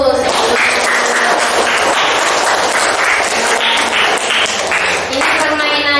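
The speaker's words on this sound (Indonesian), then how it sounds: "Tepuk tangan dulu." Students in a classroom clap their hands together in a loud, steady rhythm, many pairs of hands striking at once in repeated bursts that continue throughout.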